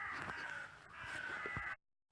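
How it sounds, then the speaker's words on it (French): A crow in the woods gives a single harsh, drawn-out caw, clear and fairly near, lasting under two seconds before cutting to silence. "Corbeau."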